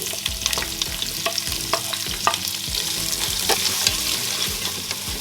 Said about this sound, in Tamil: இந்த டைமில் நம்ம இந்த வெங்காயம் ஆட் பண்ணிக்கலாம்